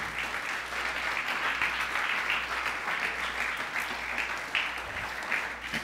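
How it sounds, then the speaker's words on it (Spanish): A church congregation applauds during a sermon, a steady, dense roar of many hands clapping that holds evenly for several seconds, with a low hum beneath. "Dale un aplauso a nuestro Señor"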